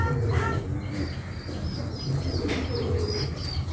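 A breeding pair of pigeons, a Sirazi and a Fieldback, coo close by in soft repeated throaty calls, with faint chirps mixed in.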